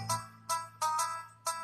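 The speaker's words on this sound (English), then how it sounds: "something going off on my phone for some odd reason" A phone gives off four or five bright electronic chimes in a quick, uneven run, close and clear over a low steady hum, with no talking.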